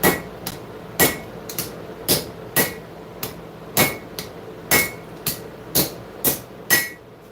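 Hammer blows on a knife blade held with its heel hanging off the anvil, about a dozen sharp ringing strikes in a steady, slightly uneven rhythm, each with a bright metallic ring, close and loud with no talking.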